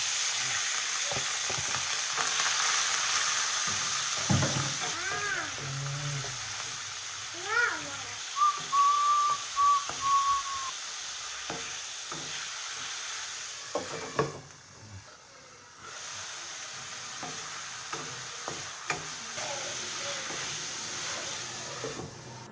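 Meat frying in hot cooking oil for adobong talong, a steady broadband sizzle running throughout, with stirring clatter, a brief whistling tone and occasional voices in the background.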